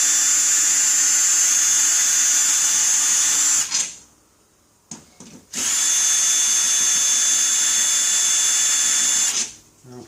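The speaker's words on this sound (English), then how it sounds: "Remove these 2 screws." A power drill removes two screws from a ladder assembly, running in two long, steady high-pitched whines split by a short silence, both close and loud.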